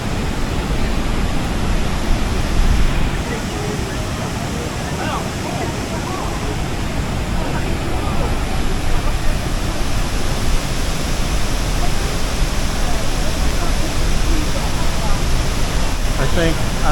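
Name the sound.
Niagara Falls waterfall seen from behind the falls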